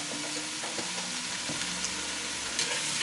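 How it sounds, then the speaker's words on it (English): Shrimp shells sizzle in a hot pan, a steady, close frying hiss with small crackles and pops running unbroken for the full three seconds. There are no voices. "Oh, and then you can hear that sizzling right there."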